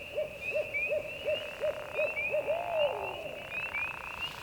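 A turkey hunter imitates an owl in the dark before dawn, voicing a rapid run of about eight hooting notes that ends in a drawn-out, wavering hoot, loud and close over a steady high insect-like tone.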